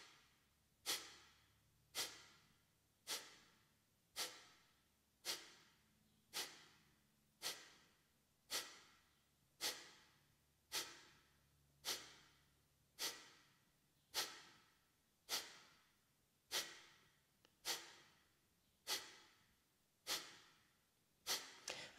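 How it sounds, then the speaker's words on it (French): Breath of fire breathing, air forcefully expelled through the nose in sharp regular bursts about once a second, some twenty close nasal puffs each trailing off before the next, no speech between them. "La respiration du feu où on chasse l'air avec le nez, c'est puissant."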